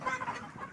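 Hens on a poultry farm of roughly 470 to 500 birds cluck in a brief, fairly faint burst, with several soft overlapping calls and no voices.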